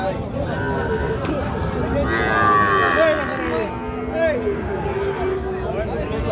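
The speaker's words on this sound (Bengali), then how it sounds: "শাহিওয়াল ষাঁড় বাছুর, 5-6 মাস করে বয়স হবে এক একটা।" Sahiwal bull calves, five to six months old, mooing at a busy cattle market, with several drawn-out moos over a background of crowd chatter and nearby voices.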